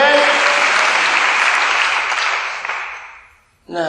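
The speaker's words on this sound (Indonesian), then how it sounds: "Tepuk tangan buat Yesus Tuhan" A church congregation breaks into sustained, loud applause that fades out gradually over a few seconds, followed briefly by a preacher's voice.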